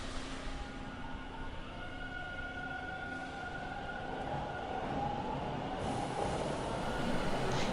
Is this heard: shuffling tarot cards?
no